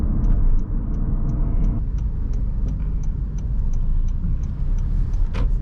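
A Bajaj auto rickshaw pulls along in first gear on a busy road, its engine a steady low rumble with faint regular ticking throughout and a sharp click near the end.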